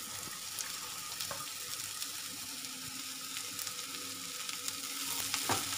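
Green beans sauté in a pan for a Tamil beans usili, giving a steady soft sizzle with faint scrapes and a brief clatter near the end, no talking.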